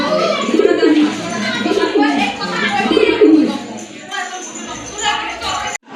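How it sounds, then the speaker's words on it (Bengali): Lahori pigeons in a fancy-pigeon sale setting coo in soft, throaty rolling pulses, close by, under someone talking steadily. "এটা হচ্ছে আপনার গ্রেবার লাহোরি কবুতর, খুবই চমৎকার"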